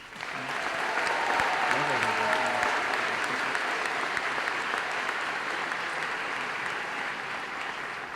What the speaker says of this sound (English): First, give a round of applause to Mrs. Hofer and the UAIS band.